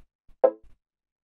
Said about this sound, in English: we have this third chord stab, which is made with operator, and it sounds like this